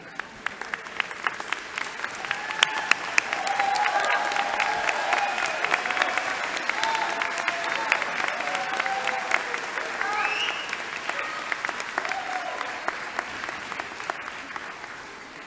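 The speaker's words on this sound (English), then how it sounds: "face your family, your loved ones, your spouses, any tag-along companions, and applaud them for their help on your journey" Doctoral graduates at a university hooding ceremony applaud their families, a large crowd's sustained, dense applause rising quickly and holding steady throughout, with murmured voices mixed into the clapping.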